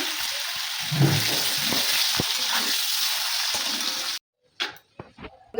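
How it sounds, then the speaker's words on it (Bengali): Steady, loud sizzling of paneer frying in hot mustard oil, a dense crackling hiss that cuts off abruptly, followed by a few brief clatters. "এই যে বন্ধুরা, আমি পনিরটা ভেজে নেব।"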